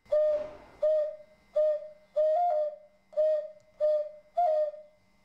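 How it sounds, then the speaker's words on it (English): A ceramic Gravina whistle with a finger hole plays seven short hooting notes, some bending to a second pitch in a cuckoo-like pattern, clear and close in a regular rhythm. "with this hole, we can make two kinds of sound like a cuckoo."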